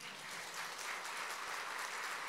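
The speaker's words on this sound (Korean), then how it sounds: "주님께 영광의 박수 올려드리겠습니다." A church congregation at a revival service claps together in sustained, dense applause, even and moderately loud from start to finish with no talk.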